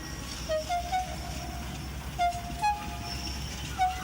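A toy steam engine with a horn runs along a track, giving short toots over a steady low rumble and chuff of the train.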